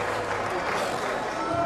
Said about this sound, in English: had to put some headphones on because the crowd are that loud